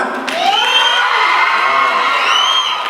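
Students at a junior college freshers' party cheer, whoop and shout in a loud, continuous crowd roar with shrill whistles rising over it, filling the space throughout.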